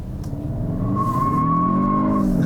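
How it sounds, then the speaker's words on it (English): A 2022 Kia Stinger GT-Line rear-drive sport sedan with an 8-speed automatic, its rear stepping out under power: a loud, steady engine drone rising in pitch with a thin tire squeal layered over it, no voices. "So much power to just let the back step out."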